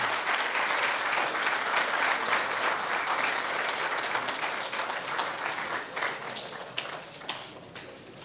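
Audience applauding at a commemoration event for the Battle of Cuito Cuanavale, a sustained burst of many hands clapping that gradually thins and fades toward the end.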